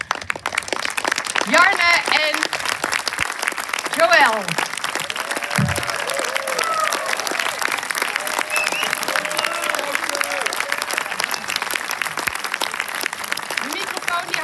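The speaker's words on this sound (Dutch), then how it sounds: "Mag ik een warm applaus voor Joren," Warm applause from a festival audience at the public premiere of the film Zomervacht in Utrecht, a steady mid-level clapping that runs throughout while a host talks over it in Dutch.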